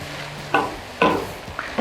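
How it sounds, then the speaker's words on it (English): Soy sauce and rice vinegar mixture stirred in a bowl, with three or four brief scraping strokes spaced about half a second apart over a quiet kitchen background. "Give this a really good stir."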